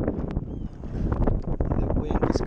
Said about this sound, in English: It's getting pretty choppy and windy right here